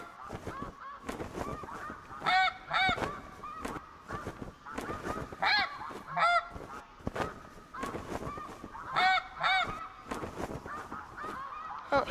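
Snow geese honk loudly in a flock in the TheHunter Classic hunting game, repeated overlapping calls in bursts throughout, fairly close, with faint background noise between.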